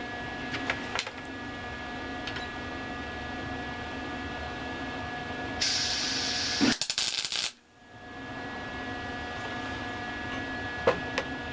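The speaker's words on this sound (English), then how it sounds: "And I'm just doing tiny little tack welds because I already had to grind a couple off." Tack welding an Artec truss, with a steady crackling, hissing arc and a brief louder burst near the middle before cutting off, followed by a few faint clicks, close to the work.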